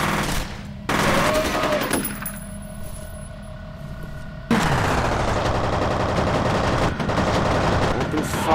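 Gunfire in the horror shooter F.E.A.R., with loud sustained bursts of automatic fire and clattering impacts in two long stretches separated by a quieter gap, up close and dominant.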